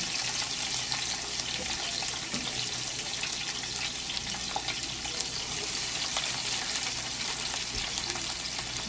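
Onion frying in a pan for ackee and saltfish with callaloo, a dense steady sizzle close up with light stirring clicks, no voices.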